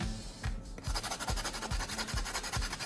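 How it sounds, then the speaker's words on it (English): Sandpaper grinding charcoal into fine powder, a close, rhythmic rasping scrape repeated in regular strokes about every half second after a brief pause. "I'm going to use sandpaper to grind the charcoal into a fine powder."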